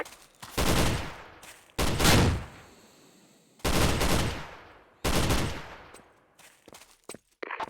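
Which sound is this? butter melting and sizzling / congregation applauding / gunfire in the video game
gunfire in the video game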